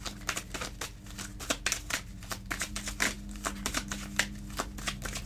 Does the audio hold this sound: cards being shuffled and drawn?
yes